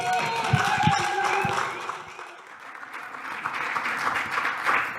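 An audience at a tiki bar event gives a round of applause, a burst of clapping from a small crowd that swells, dips briefly and picks up again, with faint voices mixed in.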